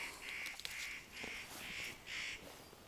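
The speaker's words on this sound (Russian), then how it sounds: "Где-то ворона орёт." A crow caws repeatedly in a forest, five evenly spaced harsh calls at moderate distance, faint over quiet outdoor background.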